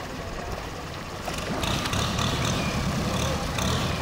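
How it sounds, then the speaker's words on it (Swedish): A long-tail boat engine starts up on a lagoon near Karon, Phuket: a low mechanical rumble that builds and grows louder partway through, then keeps running steadily and fairly close. "Jag startar en sån long tail boat."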